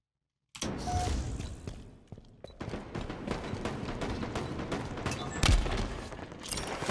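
Rapid bursts of automatic gunfire and heavy thuds crackle through a Halo Infinite multiplayer match, arriving in dense, uneven volleys after a brief silence, with one booming impact near the end.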